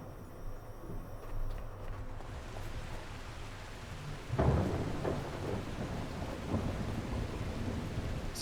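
Thunderstorm in the survival game The Last Caretaker, with steady rain hiss and a deep rumbling thunder roll swelling midway, moderately loud and continuous with no talk over it.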